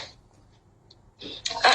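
After a quiet pause, a single sharp sneeze bursts out close to the microphone, loud and abrupt.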